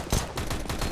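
A rapid burst of gunfire in the video game CS:GO, several close sharp shots crackling in quick succession within under a second, loud and alone.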